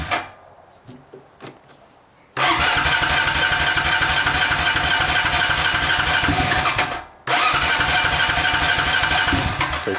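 An old Honda Rancher 350 quad, being fixed up, cranks with a few clicks, then its engine catches and runs loud with a rapid chugging beat, briefly dies, and fires up again.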